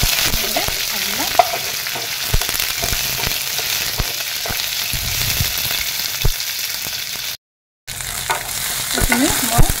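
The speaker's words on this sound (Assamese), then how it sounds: "অলপ ভাজি লওঁ" Onions, garlic, dried and fresh green chillies sizzle steadily in hot oil in a pan, with scattered stirring clicks and scrapes throughout and a brief silent break near the end before the frying resumes.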